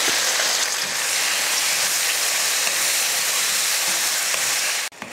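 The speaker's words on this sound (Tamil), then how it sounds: "தக்காளி நல்லா வதங்கிருச்சு" Tomatoes with a little salt sauté in a hot pan, giving a loud, unbroken sizzling hiss up close that cuts off abruptly near the end.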